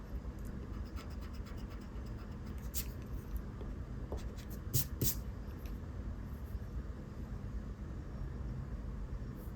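An eraser scrubs old pencil lines off a drawing of an alligator, a soft, faint scratching with several brief rubbing strokes over a quiet background.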